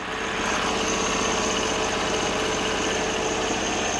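Briggs and Stratton 20 hp V-twin engine from a Sears loader idling close by, a steady uninterrupted rumbling drone with even vibration and no speech.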